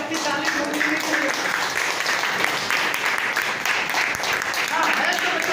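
A crowd claps loudly at a business motivational gathering, a continuous wash of applause filling the room while voices speak and call out over it.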